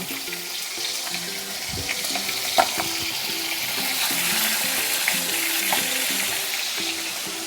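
Pieces of boal fish fry in hot oil, giving a continuous sizzle with scattered pops and spatters; a low tonal hum and a few clinks sit underneath, with no talking.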